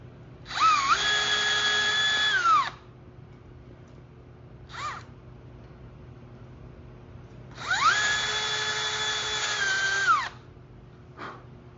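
A power drill whines through two long, steady bursts of high-pitched drilling a hole for a rivet, with brief short blips of the motor in between.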